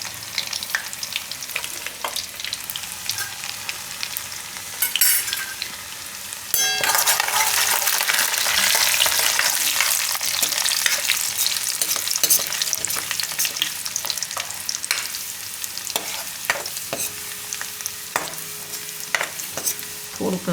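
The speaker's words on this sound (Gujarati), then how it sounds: "તો તેલમાં પહેલાં આપણે આ લસણ નાખીશું. થોડુંક જીરું નાખીશું." Garlic and cumin seeds go into hot oil for a Gujarati methi and sweet potato dish, setting off a loud, continuous close-up sizzle with occasional metallic clinks of a utensil against the pan and no talking.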